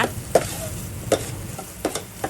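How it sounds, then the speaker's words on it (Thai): Ginger stir-fried in a pan as it turns fragrant, heard as a soft, steady sizzle broken by a few sharp scrapes and clatters of the stirring utensil, close and alone with no talking. "แล้วก็ใส่ขิงลงไปผัดค่ะ"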